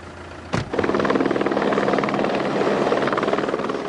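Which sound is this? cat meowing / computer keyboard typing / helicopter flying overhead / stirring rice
helicopter flying overhead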